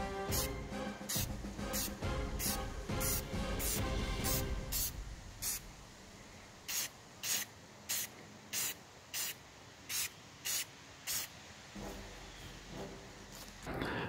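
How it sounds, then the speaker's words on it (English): Custom Chap Mei mech toy body parts are spray painted: a continuous aerosol hiss runs for several seconds, then a rhythmic series of about a dozen short, sharp spray bursts with brief pauses between them. "So the spray painting is done"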